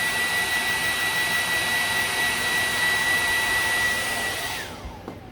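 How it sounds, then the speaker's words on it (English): A heat tool blasting white furniture wax with a steady loud whooshing fan drone and a high whine, held close and then winding down as it switches off near the end. "I just heat it up to get that wax moving in there"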